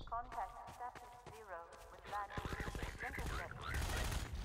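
Rapid shotgun blasts and gunfire in Half-Life 2, a dense run of sharp shots under loud excited talking, growing busier toward the end.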